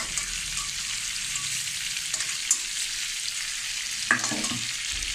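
Bay leaf, cinnamon, cloves and chili temper in hot oil left over from frying prawns, making a loud, even sizzle with a couple of brief utensil knocks and no voices.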